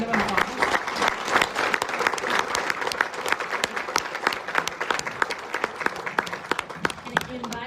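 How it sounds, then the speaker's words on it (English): Dense, steady applause from a conference audience after a panel on the 2026 World Cup and soft diplomacy, loud and sustained for several seconds with a faint murmur of voices beneath the clapping. "So a round of applause."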